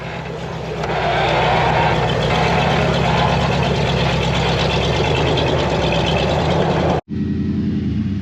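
A rock crawler 4x4 engine runs loud and steady while crawling up rocks in Rangely, Colorado, rising after the first second, holding a continuous drone, then cutting off abruptly near the seventh second before resuming more quietly.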